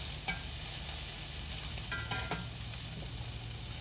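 Salted onions sizzle steadily in a pan while being stirred, with a soft continuous hiss and a few light utensil scrapes close by, no voices.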